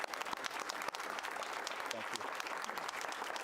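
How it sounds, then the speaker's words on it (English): Enthusiastic audience applause fills a school board meeting, with dense, steady clapping from a crowd throughout and a voice briefly speaking over it near the start. "I'd like to take a minute if you can just give a round of applause"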